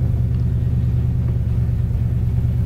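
A 1955 Ford F100 pickup truck idles and rolls through a slow U-turn at an intersection, its engine giving a steady, low, close rumble with no speech.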